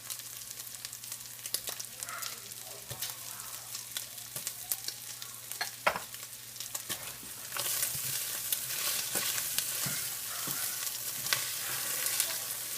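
Onions and zucchini sizzle steadily in a pan for a stir fry, with scattered stirring scrapes and clicks; the frying hiss grows louder and denser about halfway through, with no talking.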